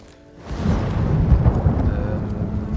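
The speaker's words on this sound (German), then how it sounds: "Warum ist andauernd Gewitter?" Thunder rumbles in a stormy Ghost of Tsushima video game scene, building after a quiet start into a sustained loud, low roll with rain-like hiss.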